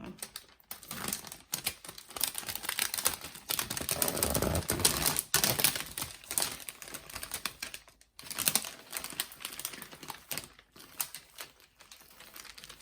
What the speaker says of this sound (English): So I might just take the plastic off now.